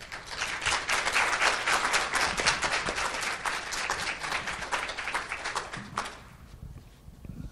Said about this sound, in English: So a huge round of applause for Gail